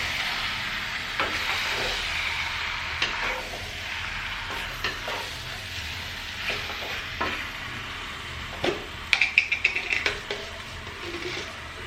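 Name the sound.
stirring buffalo heart and kidney in a pan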